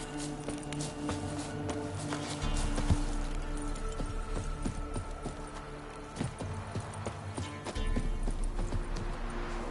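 Horse hooves clip-clop steadily at close range in The Witcher III, with a low continuous ambient bed beneath the footfalls and occasional heavier thuds along the way.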